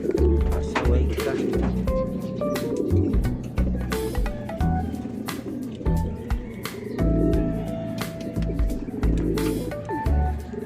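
Pigeons coo steadily and close up, with bird calls layered over a busy, noisy background and brief voices now and then.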